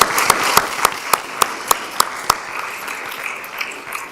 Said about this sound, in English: let's give everybody one more round of applause.